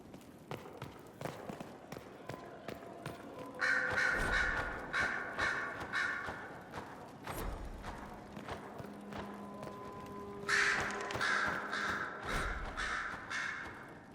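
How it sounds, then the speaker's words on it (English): Birds caw repeatedly at Skyhold in the video game Dragon Age Inquisition, with clustered, raspy calls in two bursts over soft thuds and footstep-like sounds. "Sister Leliana will want access to the birds."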